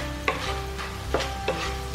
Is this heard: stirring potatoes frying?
yes